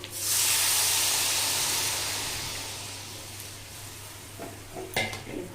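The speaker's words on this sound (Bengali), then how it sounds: "এখন পরিমাণ মতন জল দিয়ে দেবো" Water poured into a hot pan of chicken cooked with coriander and mint leaves bursts into a loud, close hiss of steam that slowly fades over a few seconds, followed by light stirring clinks.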